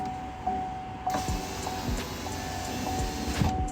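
A power window motor drives the glass of a 2013 Chevy Volt after regulator replacement, a steady whirring hum in a car interior with a few light thumps and clicks, close and moderately quiet.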